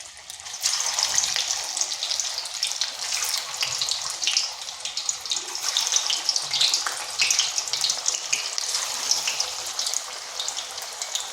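Pieces of radish sizzle in hot oil in a wok over medium heat, a steady, bright crackle and hiss that carries on without a break, with no voices.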